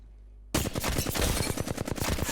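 Assault rifle fire in a video game bursts in after a brief quiet moment, then runs as a rapid, loud, continuous stream of close automatic shots until the end.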